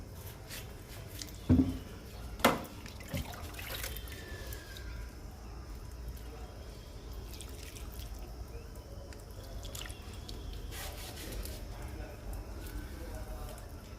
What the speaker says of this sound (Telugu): లిక్విడ్ ఇస్తున్నా ఈ స్టాండ్లో మొక్కలకు కూడా ఇచ్చేద్దాము